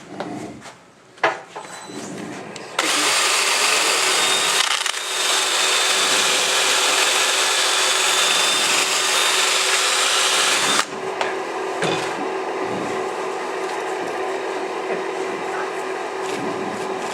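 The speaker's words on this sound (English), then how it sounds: "Now at this point I will sand it with 600 again and then polish it." Sanding a wooden inlay platter with 600 grit on a power tool, heard as a loud steady whir that starts abruptly, holds for several seconds, then drops to a lower hum, with some talk around it.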